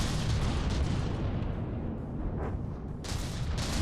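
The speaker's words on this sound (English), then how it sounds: "The mortars hitting dead on." Mortar shells in a From the Depths naval battle slam into a battleship, making heavy booming impacts and bursts over a rumbling roar of gunfire, with sharp cracks near the end.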